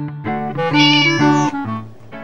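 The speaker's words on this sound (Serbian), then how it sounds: "Zatim mazim svoju malu macu Flekicu." Small pet cat meowing close by, a single drawn-out rising and falling meow followed by a shorter trailing cry, clear and alone.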